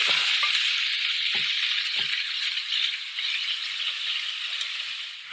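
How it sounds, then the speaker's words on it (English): Ground turkey and onions fry in a pan with a loud, steady sizzle and crackle, broken by a few sharp clicks and scrapes of a utensil against the pan. "I'm going to cook the onions for a little bit. I'm going to add all the ground turkey to it."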